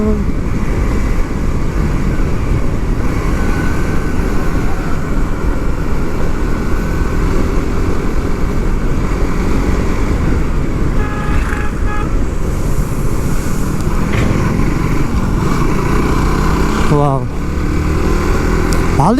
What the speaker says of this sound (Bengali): বাইক একটা এমন একটা জিনিস, যে জিনিসটা ভাই চালাইতে ভালোই লাগে।